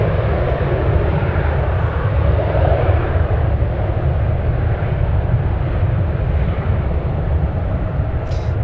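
Boeing 787 Dreamliner taxiing quickly at San Francisco airport: a loud, steady jet engine roar with heavy low rumble persists throughout, heard from fairly close and unbroken by speech.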